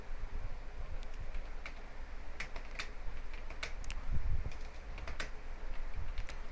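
Keys tapped on a computer keyboard while HTML code is entered, a steady run of soft, uneven clicks over a low, constant background rumble.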